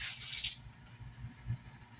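Leftover soapy dishwater is poured away in a kitchen: a short, bright splash lasting about half a second, followed by quiet low rumbling.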